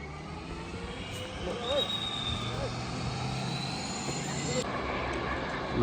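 An airplane just landed at Lukla airport in Nepal, its engine a steady close drone with a rising tone, heard under someone talking throughout.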